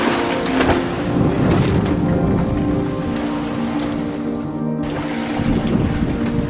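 A sailboat on a port-tack broad reach in a gentle 10 knots of wind, alone on open sea, gives a steady, loud rush of wind and water with a brief dip before it resumes.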